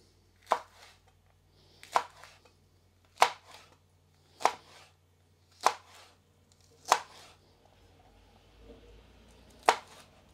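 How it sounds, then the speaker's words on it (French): A knife chops a chili pepper on a cutting board for a holiday pizza, with seven crisp, evenly spaced cuts about every second and a half. The cuts are close and distinct against a quiet kitchen background. "Vous enlevez la tête et la queue et vous avez les grains qui sont décollés lorsque vous faites la découpe."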